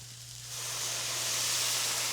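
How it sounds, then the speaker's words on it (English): Chicken broth poured into a hot pan of broccoli florets and oil sets off a rising sizzle and steamy hiss that swells after the first half second and holds steady, close and fairly loud, with no talking. "And now I'm going to add just a touch of broth."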